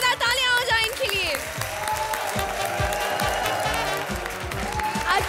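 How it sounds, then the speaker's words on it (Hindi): Studio audience applause on a Hindi comedy show, clapping swelling under musical tones and fanfare-like chimes, with a brief shout or two mixed into the background. "जोरदार तालियां हो जाए इनके लिए"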